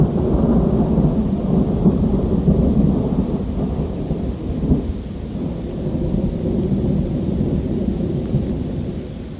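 Loud, continuous thunderstorm with heavy torrential rain pouring down in an open field, deep rumbling thunder rolling steadily throughout with no pause.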